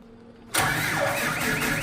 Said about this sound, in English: The question is, will our tractor start, Brock?